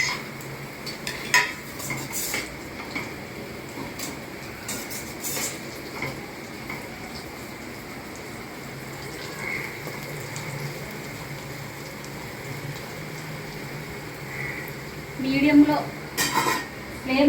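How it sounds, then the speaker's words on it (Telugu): Cashew nuts frying in a pan on a medium flame for coconut biryani, a soft steady crackle under occasional clinks of a spoon against the pan, with a brief louder scrape near the end. "మీడియం ఫ్లేమ్లో పెట్టుకొని జీడిపప్పు కూడా గోల్డెన్ కలర్ వచ్చే వరకు ఫ్రై చేసుకోవాలి"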